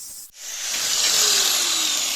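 An angle grinder cuts into a metal pipe, starting up and settling into a loud, steady high-pitched whine with a rising edge as the disc bites into the metal.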